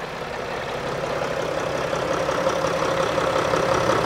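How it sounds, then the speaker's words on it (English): A Sprinter van's diesel engine idles steadily throughout, a continuous even drone with a faint rhythmic knock, close and moderately loud with no talking. "Okay, so the engine is running at idle."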